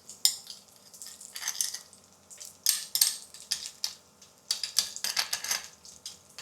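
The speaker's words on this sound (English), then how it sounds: "just use a spoon to press it to mash it a little bit." A spoon scrapes and clinks against a metal wok in irregular bursts while black beans are pressed and mashed, with a faint sizzle underneath.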